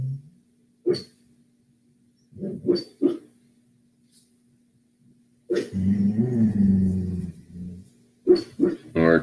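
A sleeping dog having a bad dream gives muffled short barks, woofs and whimpers close by in quiet bursts separated by silence, with one longer whining, grumbling stretch in the middle.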